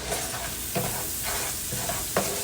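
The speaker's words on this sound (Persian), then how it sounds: "Then let it fry slowly." Onions frying slowly with salt and turmeric, stirred in a pan: a steady sizzle runs throughout, with several clear scraping stirs at regular intervals and no voices.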